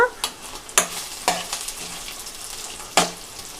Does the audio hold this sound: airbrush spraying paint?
no